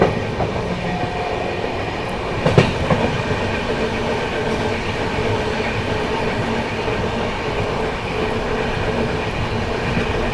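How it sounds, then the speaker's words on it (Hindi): The 12017 Dehradun Shatabdi Express runs at speed out of Meerut City, a steady loud rumble of wheels and carriage noise heard from inside the train, with a brief clatter partway through. "दोस्तों क्या ही तो रफ्तार बनाई है अपनी ट्रेन ने मेरठ सिटी से निकलते ही।"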